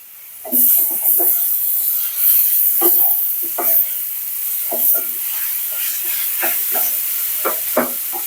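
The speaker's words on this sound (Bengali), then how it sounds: "মরিচের গুঁড়া দিয়ে দিচ্ছি ভালো করে মশলাটা কষিয়ে নিয়ে" Spices and chili powder sautéing in a home cooking pan: repeated close scraping strokes of a spoon over a steady, loud sizzle that runs throughout, with no talking.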